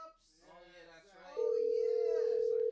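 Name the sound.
telephone call tone before being forwarded to voicemail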